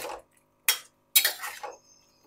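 Cauliflower florets lifted from water with a metal strainer give a few short clattering, splashy clinks, three separate bursts with quiet gaps between, close and fairly soft.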